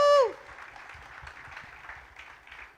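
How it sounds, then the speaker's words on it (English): Crowd at a trailer launch event claps after a brief tonal sting at the start, with sparse, fairly soft applause continuing under faint voices. "I think a big round of applause"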